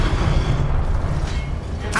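In the Hogwarts Legacy video game, the Confringo fire spell goes off as a deep booming blast with a rumbling tail, followed by a brief bright whoosh at the end.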